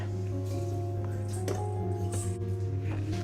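Egg whites and sugar being beaten for a cake, a steady mechanical whirring with wet squishing that runs continuously and evenly throughout, with no talking.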